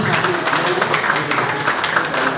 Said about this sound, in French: Je vous demande tous de pouvoir applaudir Papa Didi, monsieur le DG Didi Moudogo